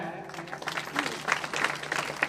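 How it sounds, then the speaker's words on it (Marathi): A crowd at a school get-together claps in a dense burst of applause that builds and continues steadily, with faint murmuring underneath. "अशा मुनीर पाशा शेख सरांसाठी एकदा टाळ्या"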